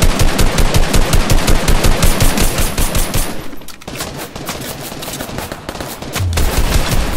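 Automatic gunfire in a Portuguese-language online shooter game, dense rapid bursts loud and close for the first few seconds, easing briefly, then continuing in steady bursts with a deep low thump near the end.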